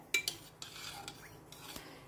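A spoon stirs half a teaspoon of turmeric powder into dal with water and salt in a pressure cooker, giving quiet, close metallic clinks and scrapes at an uneven pace.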